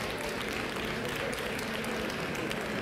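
An audience at a marketing talk breaks into steady, dense applause, a continuous wash of many hands clapping at moderate distance, fairly quiet and unbroken by talk.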